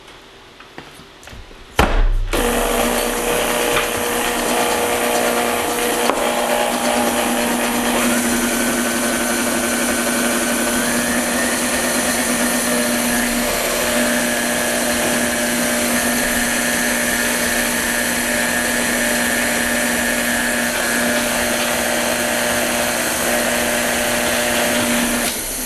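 Brown sugar and molasses are being mixed by an electric mixer or blender. It runs as a steady, loud motorized whir that starts after a short pause and keeps going for the rest of the clip.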